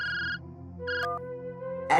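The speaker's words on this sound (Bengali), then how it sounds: "এই হুলোদা ফোন করছে" An electronic ringtone plays in short tonal bursts, a melodic pattern repeating clearly with no one speaking.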